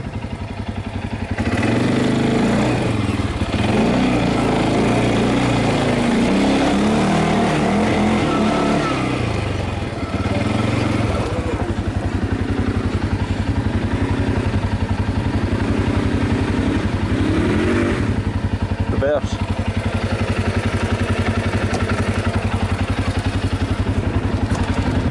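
CFMoto 500 and Konik Z200 ATV engines running loud and close, a continuous droning rumble with rising revs and some clatter throughout, with occasional voices under the engine noise.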